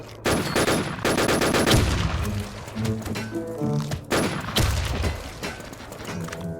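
Gunfire in the shooter game Warz, with rapid bursts of shots and impacts in two loud clusters separated by quieter stretches of game sound, close and punchy.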